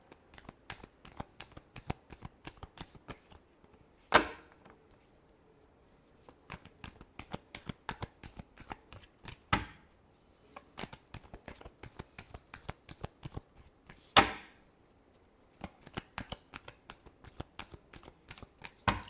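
Tarot cards being shuffled by hand in a steady run of crisp riffling flutters, with three sharper card snaps spaced through the stretch; close and fairly quiet, no talking.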